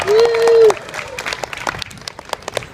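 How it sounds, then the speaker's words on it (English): An audience at a Sydney street performance breaks into loud clapping and cheering after a brief shout, the applause carrying on in a steady patter. "let's bring the energy back with a big clap of cheer"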